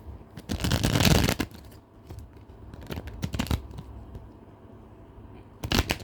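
Tarot cards riffled and shuffled in several quick bursts of dense papery crackle, loudest near the start and again at the end, with softer card handling in between.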